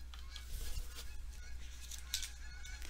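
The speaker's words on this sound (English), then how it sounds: "Listen to the Canadian geese going by my window." Canada geese honk repeatedly as they fly past a window by a lake, the calls faint and distant over a steady low hum, with no one speaking.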